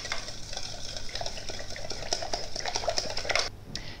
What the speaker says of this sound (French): je n'ai plus qu'à mélanger les ingrédients secs avec les ingrédients humides